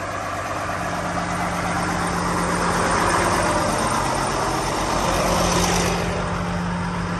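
The Volvo engine of a 2017 Prevost H345 coach idles in a steady, continuous low rumble with a broad hiss layered over it, and no voices are heard.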